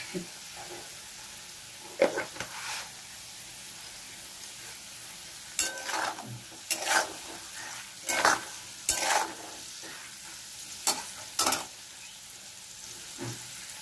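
Potatoes fry in a pan, lightly browning, with a steady low sizzle broken by several sharp scraping stirs of a spatula against the pan, close and fairly loud.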